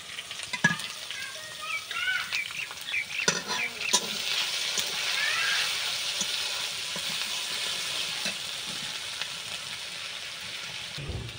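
Ground spice paste dropped into hot oil and stirred with a spatula, an initial burst of crackling and clattering scrapes that settles into a steady, fairly loud sizzle, no speech.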